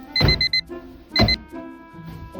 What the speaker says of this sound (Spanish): Hoy me pongo una alarma a las 3 de la mañana.